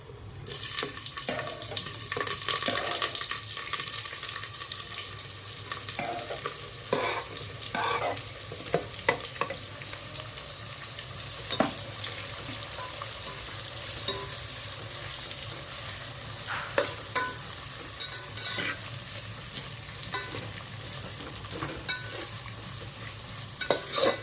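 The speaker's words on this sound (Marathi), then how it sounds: "कांदा टाकतोय आता." Chopped onions frying in a pan for chicken biryani, cooked in a room kitchen with ginger garlic paste and whole spices, give a steady sizzle with scrapes and knocks of a spoon stirring them, plus faint running water in the background.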